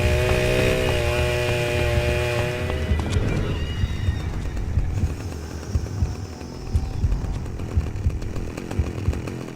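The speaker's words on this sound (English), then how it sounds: "Pigsy chases you aggressively with a loud chainsaw" A horse whinnies loudly, then an engine-driven saw snarls and rattles in bursts through a frantic game chase, in which the pig-masked villain Pigsy pursues aggressively with a loud chainsaw.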